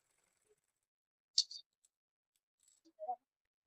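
Scissors snip through stiff buckram fabric while a child's frock is being cut, giving a few short, crisp cuts in two separate bursts against near silence.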